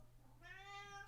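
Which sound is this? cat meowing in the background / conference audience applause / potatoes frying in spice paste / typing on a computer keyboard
cat meowing in the background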